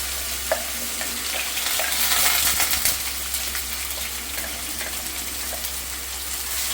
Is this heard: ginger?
yes